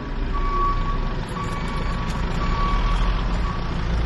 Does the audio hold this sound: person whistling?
no